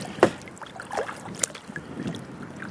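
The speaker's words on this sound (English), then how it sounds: "Out here kayaking." A kayak is paddled one-handed across water while checking a trapline, with a few soft splashing strokes and drips, quiet and close, against light wind noise.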